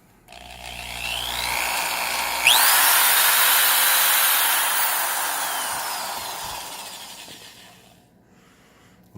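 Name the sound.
Milwaukee 0101-20 high speed hole drill running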